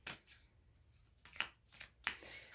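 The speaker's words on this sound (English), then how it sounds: "so I mixed up my cards" A deck of prompt cards is shuffled by hand in a few soft, riffling bursts, quiet and close, with brief pauses between them.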